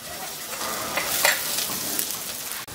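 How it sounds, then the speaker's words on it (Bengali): Chopped onion and two cloves of minced garlic fry in oil in a wok over high heat for tomato egg noodles, giving a close, continuous crackling sizzle with a few brief stirring scrapes. "আর 2 কোয়া রসুন কুচি দিয়ে একটু ভেজে নেব।"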